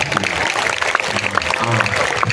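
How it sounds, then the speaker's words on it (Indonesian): Applause from a crowd for Kendal at a Ngaji Bareng Gus Miftah religious gathering, a loud, dense patter of clapping that fills the whole moment, with voices mixed underneath. "Tepuk tangan untuk Kendal."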